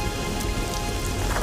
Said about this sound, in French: Mais il pleut! Oui, il pleut!